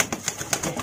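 Pigeons coo in courtship, a few quick soft pulsing calls and wing-like rustles close by, repeated in short bursts.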